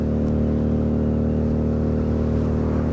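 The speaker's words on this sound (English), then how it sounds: "this is the V-twin 4-stroke 250cc" A Lexmoto Vendetta 250cc V-twin four-stroke motorcycle engine drones steadily close by, a constant low throbbing hum with no clear revving.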